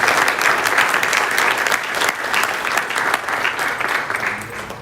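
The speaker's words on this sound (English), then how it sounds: "Families of the Scouts, that was outstanding. Let's give them a round of applause again." Loud, steady applause from an audience at an Eagle Scout Court of Honor, a thick continuous patter of many hands, honoring the scouts' families and swelling slightly in waves.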